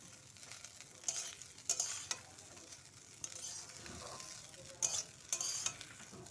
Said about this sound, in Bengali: এখন ভাত আর এই পেঁয়াজ আর ডিমটা ভালো করে নাড়বো, যাতে দুটো একসঙ্গে মিশে যায়।